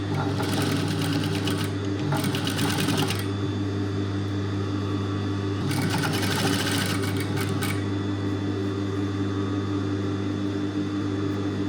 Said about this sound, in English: And now we're gonna stitch right through.